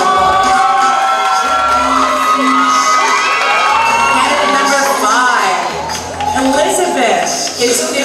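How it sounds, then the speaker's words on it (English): A pageant crowd at a Miss Philippines USA candidate introduction cheers, whoops and shouts loudly after a contestant is announced. The excited crowd noise rises and falls continuously, with an announcer's voice partly under it. "Give her a round of applause."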